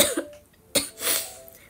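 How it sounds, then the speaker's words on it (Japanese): A couple of sharp, close coughs a moment apart, followed by a softer breathy exhale, with no talking. "めっちゃ咳しちゃった"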